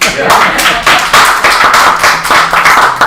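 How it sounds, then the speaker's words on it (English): Attendees at a town business meeting in Hurt, Virginia clap in a loud, close burst of individual claps with uneven rhythm, with voices mixed in. "I think we owe her an applause."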